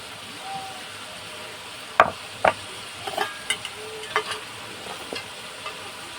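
Jujube (kul) pickle being stirred in a pan, heard as a soft background sizzle broken by several sharp scrapes and knocks of a spoon against the pan, spaced irregularly and fairly close.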